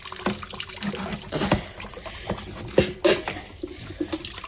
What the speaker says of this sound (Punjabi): ਹੁਣ ਆਪਾਂ ਪਾਉਣਾ ਆ ਬੂਟਿਆਂ ਨੂੰ ਪਾਣੀ